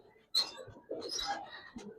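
Giribaz pigeons with red eyes cooing in a loft, a few short soft coos and calls close by, with rustling and light background noise.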